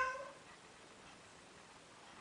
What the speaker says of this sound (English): cats meow at other cats when they want something